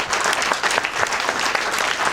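An audience claps enthusiastically at a hypnosis stage show. The short, steady burst of dense applause is close and loud, with individual claps audible through the crowd noise.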